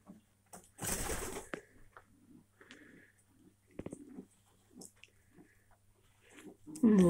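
Moulting pigeons in a loft giving soft, scattered low coos amid sparse rustles and one brief noisy flutter, fairly quiet and close.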